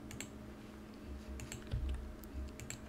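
Typing on a computer keyboard with a press of the enter key, a few faint, scattered key clicks over a low background hum, quiet and close, with no one speaking.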